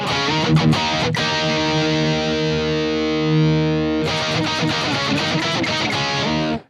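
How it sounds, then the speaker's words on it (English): A PRS electric guitar plays distorted tones through a Donner Arena 2000 multi-effects processor, with picked chords, a long sustained ringing note, then more strummed chords cut off sharply, loud and alone. "So there are some distorted tones for you"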